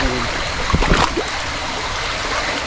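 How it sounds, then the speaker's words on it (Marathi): A rain-fed stream rushes continuously at night, a broad wash of flowing water with a few splashy gurgles midway. "आता पाऊस पडला त्याला पाणी आलं आहे बघ"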